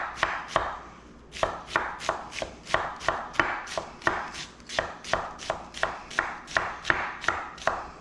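A knife chops an onion on a cutting board in quick, even strokes, about two per second, close and crisp, with one short pause near the start.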